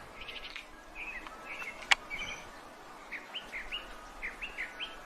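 Small birds chirp and tweet repeatedly in the distance outdoors, short high calls in loose clusters over steady background noise, with one sharp click partway through.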